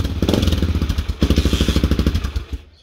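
A Honda XR600R single-cylinder motorcycle engine is kick-started and fires up, giving a loud, close, rapid thumping chug that runs steadily and then dies away at the very end.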